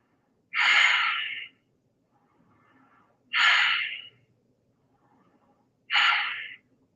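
Three deep, forceful inhalations during a yoga breathing exercise, evenly spaced about every two and a half seconds, close and clear against near silence.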